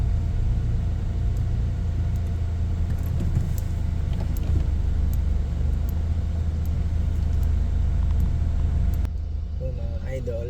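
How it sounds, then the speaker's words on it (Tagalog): Heavy road traffic of cars and buses in Santolan rumbles continuously at a steady level, with a constant low drone of engines throughout and a brief drop in the higher noise near the end. "Medyo ma-traffic po. Ma-traffic talaga."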